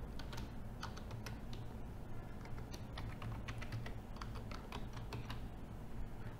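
Steady keyboard typing on a computer while entering a username and password at a login page: dense, continuous clicking of keys at a close distance, without pauses, alone with no voices.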